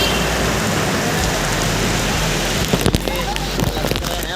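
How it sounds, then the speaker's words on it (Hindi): Steady heavy rain hisses and roars continuously, with a few knocks and splashes near the end. "बारिश तो रुकने का नाम ही नहीं ले रही"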